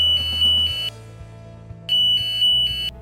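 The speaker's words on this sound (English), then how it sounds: "Pressing the horn alarm silence push button on the master control cubicle door silences the horn." A breaker trip alarm horn sounds on a switchgear training simulator, two loud electronic bursts of pulsing tones about a second apart over a steady low equipment hum, with no voices.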